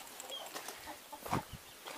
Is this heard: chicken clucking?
yes